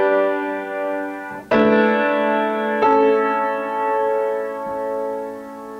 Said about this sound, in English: So I could do my 9/8 suspension in the soprano at the same time that I'm doing the 4-3 suspension in the tenor